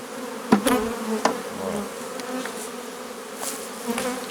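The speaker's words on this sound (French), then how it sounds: "c'est les plus vieilles abeilles qui attaquent" Honeybees swarm around an open hive during a colony transfer into a Dadant 10-frame hive, making a dense, steady buzz up close. A few sharp knocks of wooden frames and tools cut through the buzzing.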